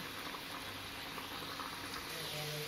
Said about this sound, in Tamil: பாருங்கள் நல்லா பொறிஞ்சு கலர் மாறிக்கிட்டு இருக்கு